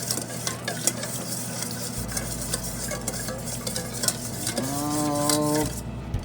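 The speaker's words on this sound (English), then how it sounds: "Now I want to whisk this up. Get that honey incorporated into everything." Honey sauce for Asian wings being whisked, a busy close clatter of whisk against a bowl over a steady background hum, with a brief squeaky tonal sound late on.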